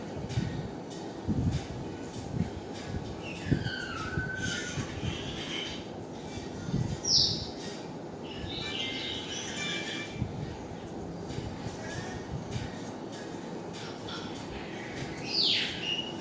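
Steady low rumble of a moving MRT train interior, with air-conditioning hiss and faint chirpy squeals of wheels or doors over the constant hum, no talk.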